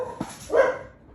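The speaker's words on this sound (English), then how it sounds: "sorry about the dog. He likes to bark." A dog barks in a garage during drum shell refinishing, two short barks close by, the second louder, with no talking over them.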